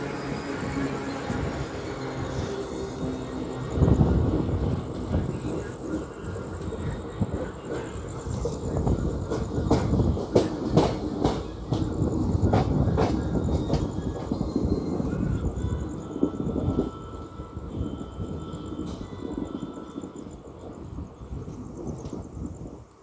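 Howrah–Secunderabad special train running on rails, a loud continuous rumble with rhythmic clacks of wheels over rail joints building and easing, heard from inside the moving coach.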